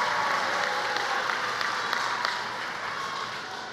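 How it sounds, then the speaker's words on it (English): An audience claps steadily at a governor's announcement at a Hebrew academy, a dense even patter of hands heard from some distance that slowly tapers. "Let's give her a round of applause and thank her for everything she does."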